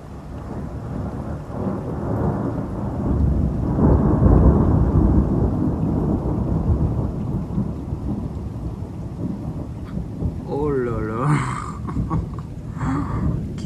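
A long, heavy rumble of thunder from an evening storm in Metz rolls over steady rain, swelling and fading for several seconds, with a brief voice near the end.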